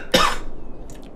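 A single harsh, close cough bursts out, then trails off into quiet room tone with a faint rustle afterward.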